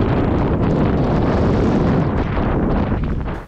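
Strong storm wind on Mont Perdu roars continuously, buffeting the microphone with a dense, heavy rush that barely lets up before cutting off.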